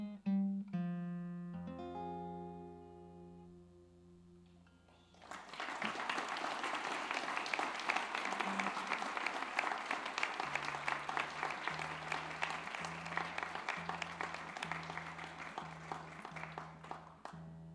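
Audience applause at a benefit concert rises after a sustained musical chord and rolls on as dense, steady clapping, while a low repeating tone sounds underneath.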